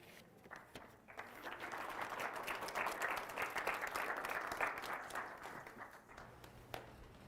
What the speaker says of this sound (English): I should have timed like the differential between when the clapping stops and the walking keeps going.